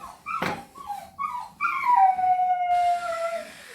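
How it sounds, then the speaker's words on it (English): A dog whimpers with a few short rising yelps, then lets out a long, wavering howl that slides downward in pitch. It sounds nearby and clear, with no talking over it. "That's one of our dogs again."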